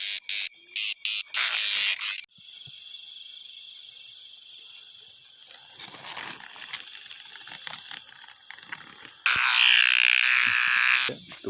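Cicadas buzz at night in the wild, bursts of loud shrill rasping that start and stop, then a quieter sustained drone before another loud burst near the end.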